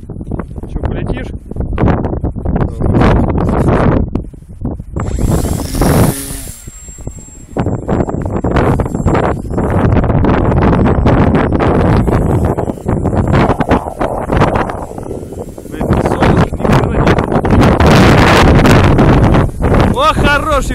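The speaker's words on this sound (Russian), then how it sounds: "О, хороший ветерок-то, а!" Strong wind of around 10 m/s buffets the microphone outdoors in loud, rumbling gusts that rise and fall throughout, with people talking over it.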